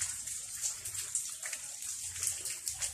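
Water runs steadily outdoors with a bright splashing hiss and small uneven bursts, fairly close and without talk.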